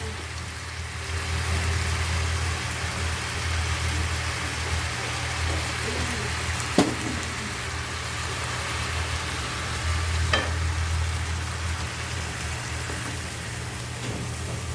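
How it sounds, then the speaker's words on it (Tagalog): Chicken sautéing in a pan with fish sauce for kaldereta, a steady close sizzle and crackle of frying that continues for the whole stretch, with a couple of sharp utensil knocks against the pan. "Kailangan natin gisahin mabuti ang ating chicken. Lagyan natin ng patis."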